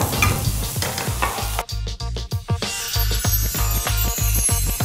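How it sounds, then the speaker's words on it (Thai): Seasoned rice and dry scrambled egg are stir-fried in a hot pan, giving loud sizzling with a rhythmic run of spatula scrapes and knocks against the metal, close up with no voices. "เราก็ใส่ข้าวที่เราปรุงรสไว้ลงไปพร้อมกับไข่ที่เราผัดแห้งไว้นะคะ"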